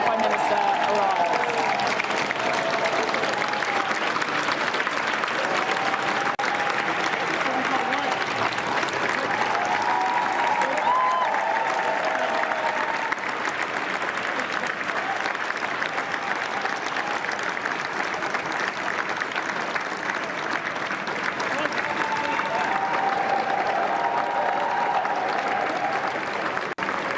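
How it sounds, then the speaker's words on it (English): Large crowd applauds continuously as the new UK Prime Minister arrives, a long, steady roar of clapping with scattered cheers, heard at a distance and never pausing. "You can hear the applause, and that applause is about to get even louder as the new Prime Minister arrives."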